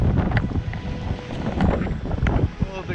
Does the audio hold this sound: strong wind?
yes